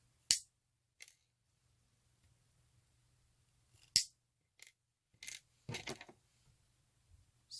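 Scissors trim handmade cork and paperclip tassels with a handful of sharp, close snips spaced apart by quiet pauses, a few in quick succession near the end, with no talking.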